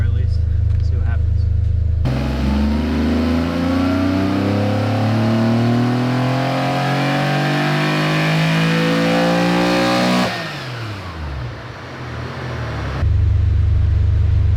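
An air-cooled Porsche 911 engine with individual throttle bodies idles loudly, then revs in one long rising pull for about eight seconds before dropping back to idle, close and dominant.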